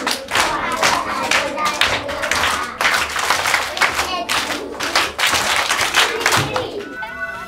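A class of about sixty primary schoolchildren in Nigeria claps for a classmate, with loud, rhythmic, close clapping in quick bursts and children's voices mixed in before it fades at the end.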